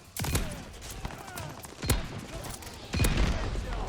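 Rifle with a 10-round magazine firing in the Warzone video game: four sharp, separate shots with irregular gaps between them, set over a low background of game noise.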